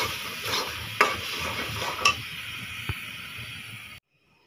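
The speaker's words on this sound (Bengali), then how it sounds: "এই তো ডিমটা রান্না করে ফেলছি আমি, একটু ঝোল দিছি হালকা।" Eggs cooking in a pan with a little gravy, a steady loud sizzle and hiss broken by several sharp clinks of a utensil stirring against the pan before it cuts off.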